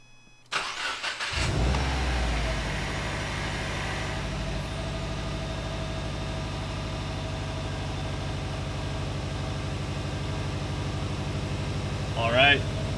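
A tuned car engine cranks and catches on its first startup after a Cobb Stage 2 install, then settles into a steady idle with a low mechanical hum; a voice briefly speaks near the end.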